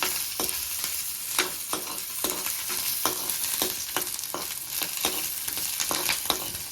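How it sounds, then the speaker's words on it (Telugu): Green chillies frying in a pan for raw mango chutney give a steady close sizzle, punctuated by repeated sharp scraping taps of a spoon stirring at an irregular rhythm. "ఈ పచ్చిమిర్చి కూడా వేగిపోయినాయి."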